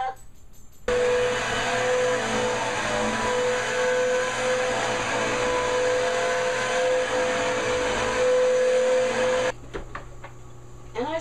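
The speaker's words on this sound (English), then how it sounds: "Now I'm going to vacuum them up." A household vacuum cleaner sucks up fleas and flea treatment from indoor floors, a loud, steady whine that starts abruptly, runs continuously for several seconds, then cuts off.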